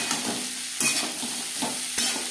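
Bean seeds stirred with salt and turmeric in a frying pan, a few brisk scraping strokes over a soft sizzle, close and clear, no talk.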